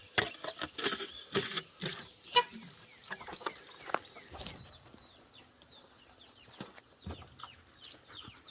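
Chickens cluck and call close by in an irregular scatter of short sounds, with occasional wing flaps and rustling between them.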